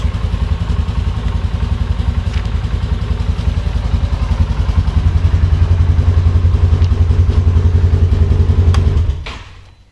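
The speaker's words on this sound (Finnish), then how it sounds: "kuulette nuo äänet. Nunikkaasti se käypi tuo Polaris." A Polaris Sportsman 570 ATV from 2023 idles and runs steadily nearby, a loud, even engine drone with a faint clattery edge that holds for about nine seconds before cutting away at the end.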